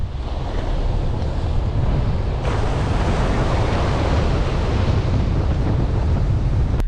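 Sea surf washing along a beach as a Hyundai Tucson 4x4 drives through the shallows, a steady loud roar of waves mixed with buffeting wind noise on the microphone and a faint vehicle rumble underneath, with no talking.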